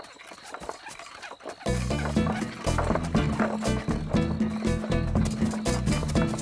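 Hooves of a cartoon horse from Lucky Luke clip-clop in a steady, galloping rhythm under loud music that bursts in after a quieter opening.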